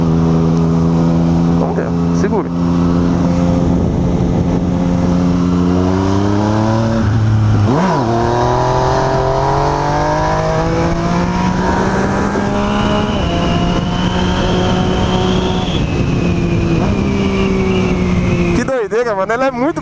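A faired motorcycle carrying a passenger on the back revs hard and rides, its engine pitch climbing and dropping through gear changes, loud and close, with someone talking over it.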